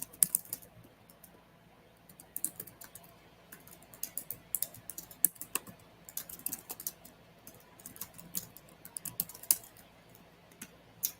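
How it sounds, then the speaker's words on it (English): Quick, irregular bursts of keystrokes tap on a computer keyboard at close range, soft clicks arriving in short runs with brief pauses, no one talking. "I'll type it here as well."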